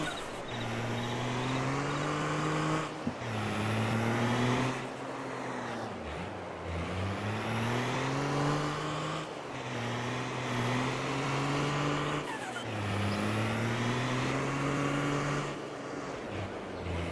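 A truck drives in Farming Simulator 22, its engine droning steadily while the pitch climbs and drops through repeated gear shifts, several rising sweeps across the stretch with no talking.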